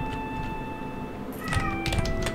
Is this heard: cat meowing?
yes